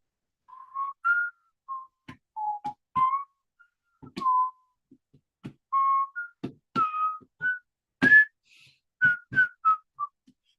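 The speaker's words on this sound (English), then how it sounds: "I'm going to whistle the theme of Jeopardy." A person whistles the Jeopardy theme, a series of clear, close tonal notes in a halting melodic rhythm with short pauses and faint breaths between phrases, alone without talk.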